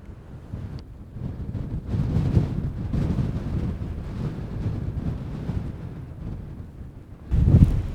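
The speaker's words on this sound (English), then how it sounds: "the wind buffeting the trailer kept Linda up all night." Gusty wind buffets a camping trailer on the windy Rocky Mountain Front in Montana, a low rumbling roar that swells and fades in uneven surges, with a stronger blast near the end.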